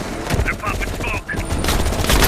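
Machine-gun fire in the Call of Duty: Black Ops Cold War campaign, a dense, continuous burst of gunfire with shouted voices and battle noise throughout.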